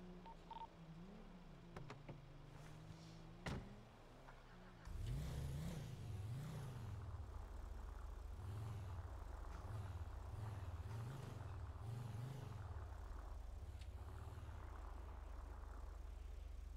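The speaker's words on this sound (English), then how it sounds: "I hear a car coming." In a roleplay video game, a car's engine hums low and steady and then swells as the car draws nearer, revving in a wavering, repeated rise and fall that stays moderately loud throughout.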